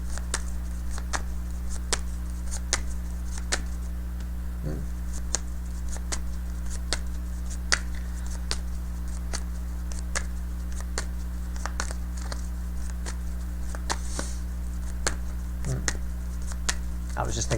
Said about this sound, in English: I was just thinking about PETA while I was shuffling.